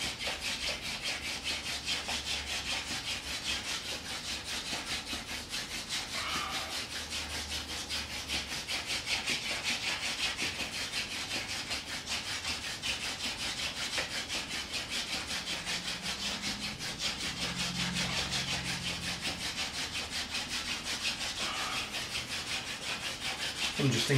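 A wooden hand-drill spindle spun between the palms on a wood hearth for friction fire, a continuous rapid scraping and rubbing close up, steady for a long stretch with brief faint sounds at moments.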